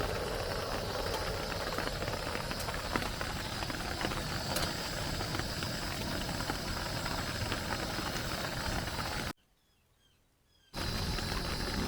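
Rain at a lakeside campsite patters on a camping tent and drips off it in a dense, unbroken hiss that fills the whole stretch, apart from one short dropout to near silence late on.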